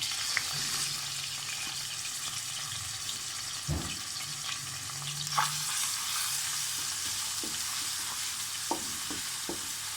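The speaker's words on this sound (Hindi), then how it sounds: "जब ऑयल गर्म हो जाए तो उसमें लहसुन डाल दें।" Steady frying sizzle of garlic in hot oil in a pan, with occasional stirring scrapes and light clinks, continuous and close throughout.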